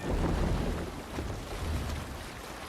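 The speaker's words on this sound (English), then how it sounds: "You must row in these waters. Good sailing wind here, Eivor." Viking longship sailing on open water in Assassin's Creed Valhalla, with a steady wash of waves and wind rushing past, fairly loud and continuous with no voices.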